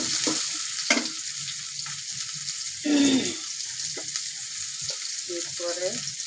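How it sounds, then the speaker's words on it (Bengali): Chopped onion and garlic frying in a pan while being stirred, a continuous close sizzle broken by scraping spatula strokes and a few louder bursts of crackle. "পেঁয়াজ কুচি দিলাম, একটা রসুন কুচি দিলাম, দিয়ে একটু নাড়িয়ে নেব।"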